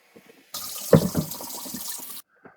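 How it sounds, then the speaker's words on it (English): Hot water at about 140 degrees gushes from a faucet to fill a Bissell Spot Clean Pro Heat carpet spot cleaner, a loud steady rush starting abruptly, running under two seconds, then cutting off cleanly. "the water coming out of my faucet right now is about 140 degrees"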